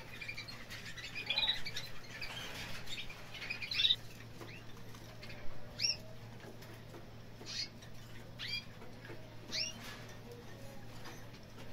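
Small caged birds, two yellow and one green, flutter and flap in short bursts with light chirps and scratchy patter, over a low steady hum.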